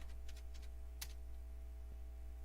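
A few quick, faint keystrokes on a computer keyboard, scattered clicks over a low steady hum with no talking.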